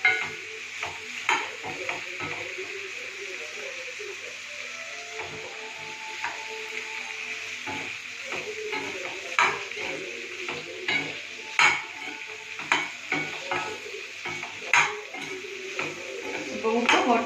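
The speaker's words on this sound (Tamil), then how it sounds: "சூடு பண்ணிடுங்க, வதக்கிடணும்." Mint leaves sauté in hot oil in a pan for chutney, with steady sizzling and frequent scraping, clattering strokes of a spoon against the pan throughout.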